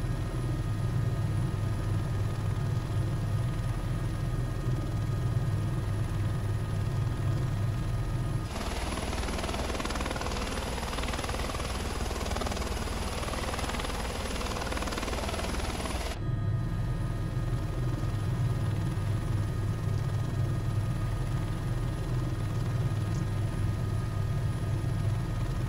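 An Airbus H130 helicopter engine spools up in Microsoft Flight Simulator, a steady droning turbine whine with a low rumble, shifting to a brighter, noisier roar for several seconds midway before returning to the steady drone.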